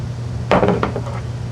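A hammer taps pre-sunk nails into the rail of a wooden surfboard, giving a few sharp, close knocks in quick succession over a steady low hum.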